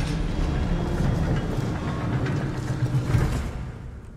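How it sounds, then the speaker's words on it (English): A train rolls along steadily in the horror video game Poppy Playtime Chapter 2, a continuous low mechanical rumble with rail clatter that holds at a fairly even loudness throughout. "Okay, here's the train that she was talking about."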